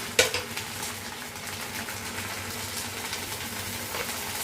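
Fresh curry leaves, just picked, drop into a hot pan for a carrot coconut curry: a sharp crackle on contact, then a steady moderate sizzle with occasional utensil scrapes and clinks, close up, with no voices.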